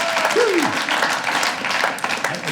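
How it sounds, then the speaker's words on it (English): A comedy club audience bursts into loud, sustained clapping and applause at a stand-up show, dense and continuous throughout, with a brief voice rising over it early on. "Clap if you ever done that."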